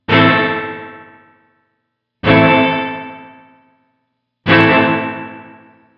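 Three loud, distorted guitar chords are struck about two seconds apart, each ringing out with a washy, springy reverb tail from a Line 6 Helix Hot Springs reverb that fades before the next.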